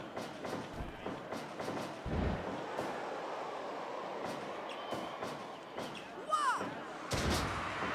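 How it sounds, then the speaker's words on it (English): A wrestler's suplex slams into the ring during a tag-team match, landing as heavy, booming thuds on the mat among scattered impacts, while commentary and crowd noise carry on underneath. "Big suplex there from Kruger"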